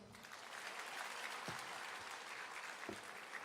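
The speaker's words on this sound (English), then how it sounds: "Can we have another round of applause for him?" Applause from a large audience at a Techfest keynote session, a continuous wash of clapping heard at a distance, low in level and with no voices over it.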